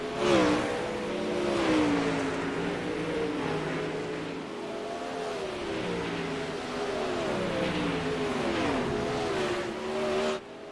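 A number 18 dirt track race car roars through its last lap, engine revving and falling in repeated waves as it powers through the turns, loud and close with no talk.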